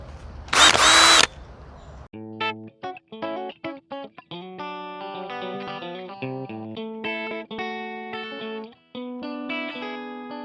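A power drill fitted with a 1-inch spade bit bores into hard ground in one loud, close, whirring burst lasting about a second, then gives way to effects-laden guitar-like music.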